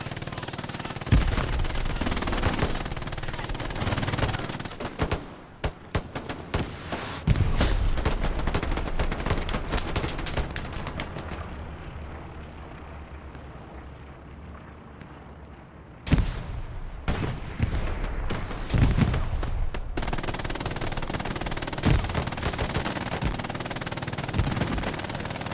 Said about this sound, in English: the strafing run comes out through and gets a good chunk of them.